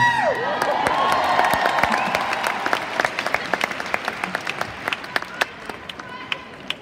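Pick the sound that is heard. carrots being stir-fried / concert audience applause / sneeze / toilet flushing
concert audience applause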